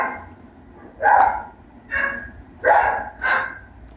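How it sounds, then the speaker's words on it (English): Neighbors' dogs bark four times at a steady spacing from a short distance, each bark sharp and loud against a quiet background. "The dogs of the neighbors always have to bark when I start recording."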